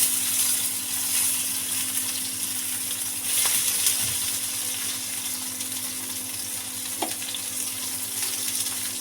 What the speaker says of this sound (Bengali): আর এই যে পাশে যে তেলটা বেশি, ওখানে আমি বেগুনগুলো দিয়ে ভেজে নেব।